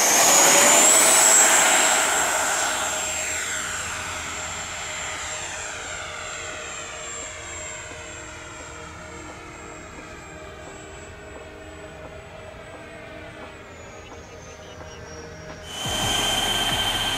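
An XFly B-1B Lancer RC jet with twin 70mm ducted fans whines loudly at full throttle on takeoff, the high-pitched roar shifting in pitch as it passes and fades into the distance, with no voices.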